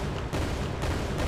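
Grenade explosions from an Unreal Engine 5 Niagara effect: a dense, loud run of overlapping booming blasts that roll together into a near-continuous roar, with fresh bursts landing about every half second.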